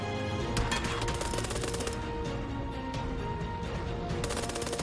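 Rapid bursts of gunfire crackle continuously in the video game PUBG (Battlegrounds), several volleys of sharp shots layered together, loud and close with no speech.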